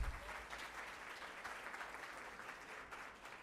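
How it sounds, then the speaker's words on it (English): A crowd at a university innovation festival awards ceremony gives a round of applause for the winners, sustained hall-wide clapping that fades gently toward the end, quiet overall and with no voices. "Let us give a huge round of applause to all the winners."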